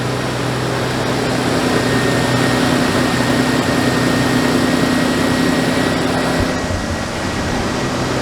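An old Toyota Supra engine idles after sitting for years, a loud, steady broadband running drone with a low, even hum that holds throughout before dipping slightly near the end.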